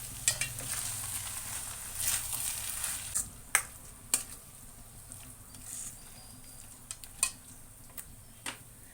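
Masala paste being stirred into a brinjal curry in a pan, with soft scraping and clinking strokes at irregular intervals over a low steady cooking hiss, close by with no talking.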